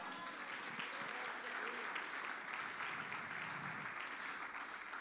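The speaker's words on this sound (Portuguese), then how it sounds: "Quem crê nisso, aplaude ao Senhor." Church congregation applauding during a sermon, a steady, even spread of clapping across the whole stretch, faint in level and somewhat distant, with a low hum underneath.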